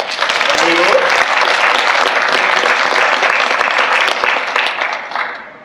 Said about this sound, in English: Please hold your applause until all introductions have been made.